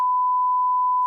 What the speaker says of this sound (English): We'll beep that part out.